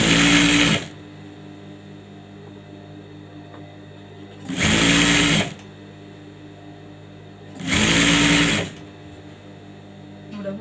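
A sewing machine stitches a folded fabric hem in three loud, steady bursts of about a second each, separated by pauses with a low background hum.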